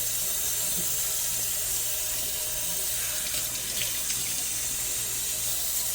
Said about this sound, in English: Then we're gonna clean off the faucet that we touched.